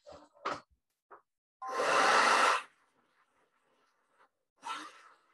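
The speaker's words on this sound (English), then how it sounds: "let's go ahead and hit that with the hair dryer" A hair dryer blows in one loud burst of about a second, then a shorter burst later, with quiet handling noises in between.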